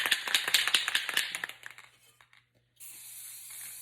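A clear coat is sprayed onto a terracotta pot in a string of quick hissing aerosol bursts, then a pause, and then a single steady hiss.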